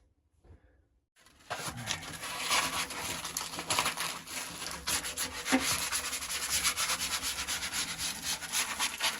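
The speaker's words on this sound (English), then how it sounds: "Getting that edge nice and rounded. I just finished it with some coarse sandpaper." Coarse sandpaper rubs steadily back and forth over a wooden edge to round it, a close, continuous rasping scrape that starts after a brief quiet moment and keeps going without talk.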